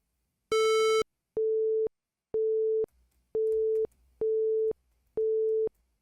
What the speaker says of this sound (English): It's like phones in the past when you couldn't connect to somebody.